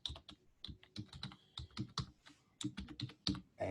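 A command is typed on a computer keyboard in a quick, uneven burst of close, crisp key clicks with short pauses between clusters, and no one speaks.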